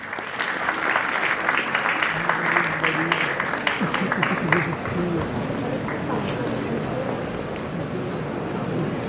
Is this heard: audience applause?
yes